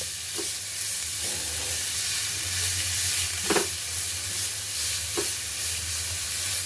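Grated beetroot sautéing in ghee gives a steady, soft sizzle, with a few brief stirring knocks from the pan.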